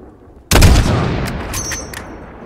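A loud, sharp gunshot bursts in from near silence in Call of Duty Modern Warfare, then rolls into a long echoing tail broken by a few fainter distant shots.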